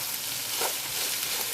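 Onions and spices for a Nepalese Gurkha curry sizzling in a pan, a steady close frying hiss with faint stirring and no talk.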